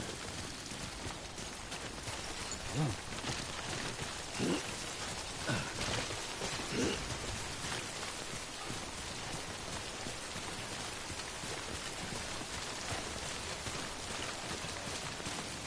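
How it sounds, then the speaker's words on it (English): Steady, dense rainfall (timefall) in the video game Death Stranding pours as a constant hiss across the whole stretch, with a few faint low knocks early on. "Don't stay out in the rain any longer than you have to."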